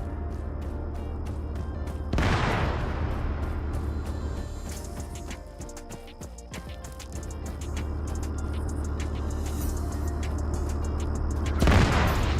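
Battlefield gunfire in ARMA 3 rolls on steadily over a low engine rumble, punctuated by two loud sharp blasts near the start and end, dense and nearby with no voices.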